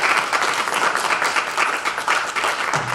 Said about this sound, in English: I think we all owe you a round of applause.